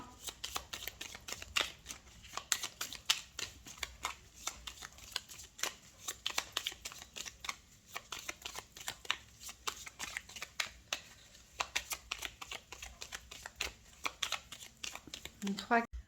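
Small Lenormand cards shuffled by hand, a long run of close, crisp riffling snaps with short pauses, under faint speech.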